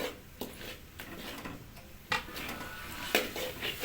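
Potatoes being stir-fried in a pan for an egg and potato curry, with scraping, clinks and knocks of a utensil against the pan over a low background, sharp hits near 0.4, 2.1 and 3.2 seconds.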